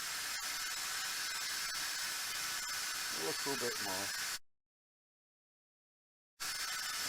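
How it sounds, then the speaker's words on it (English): Electric drill boring into a potato, a steady close whirring hiss under a person's speech, cutting off abruptly and then resuming. "I'm going to drill into the potato"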